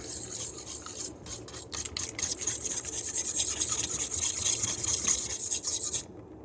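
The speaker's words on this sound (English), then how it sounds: "So whisking it all together." Muffin batter made with apple butter being whisked together in a bowl, a close, continuous rasping scrape that runs for about six seconds and then stops abruptly, with no talking.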